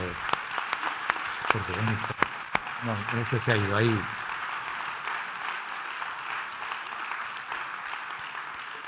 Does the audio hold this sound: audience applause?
yes